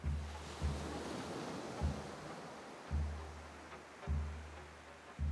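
Ocean waves break rhythmically on a pristine beach, each surge arriving roughly every second with a low thump and a hissing wash between, steady and alone without voices.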